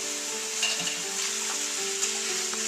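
Sirloin steak sizzling in about three tablespoons of olive oil in a hot pan, a steady close hiss with faint stirring scrapes, no voices.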